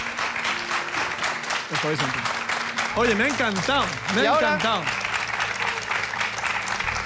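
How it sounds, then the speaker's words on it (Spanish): A studio audience at a televised science programme applauds steadily throughout, the close rattle of many hands continuing while a voice speaks over it partway through. "Un aplauso."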